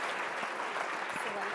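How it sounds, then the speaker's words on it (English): Audience clapping after a keynote talk on clinical challenges in Huntington's disease at a conference, a dense, sustained applause of many hands, moderately distant, with a voice speaking faintly over it. "Can we give him another round of applause?"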